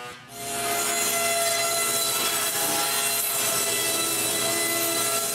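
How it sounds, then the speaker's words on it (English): A saw rips a 2x8 wooden board in half lengthwise with a continuous loud, steady cutting whine that starts abruptly and holds for the whole stretch, no voices. "A 2x8 is way too wide. I rip it in half."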